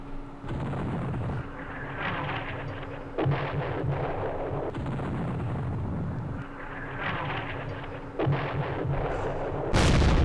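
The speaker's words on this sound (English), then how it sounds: "Here comes the B-26s." Explosions from a B-26 bomber air strike in the Vietnam war game Campaign Series Vietnam: repeated rumbling blasts and crackling bursts that roll on steadily for about ten seconds, with a sharper loud hit at the very end.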